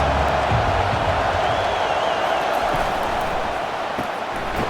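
Steady roar of a stadium crowd in a college football video game simulation of Nebraska at Ohio State, a dense continuous wash of noise with no clear breaks.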